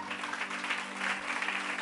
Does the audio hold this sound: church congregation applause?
yes